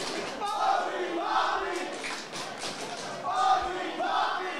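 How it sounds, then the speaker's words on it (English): Crowd at a wrestling event roaring and cheering, a dense steady wash of voices with occasional thuds and swells, loud and fairly close, with no clear talk over it. "Oh, listen to that crowd."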